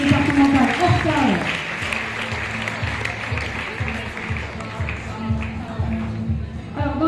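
Applause from an audience at a sports awards evening in France, continuous clapping from a crowd underneath a loud voice speaking over a sound system.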